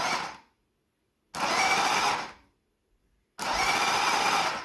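Walmart drift-edition RC car motor with non-proportional throttle, whining at full pitch in two abrupt bursts of about a second each after a fading first one, with silent gaps between, close and loud.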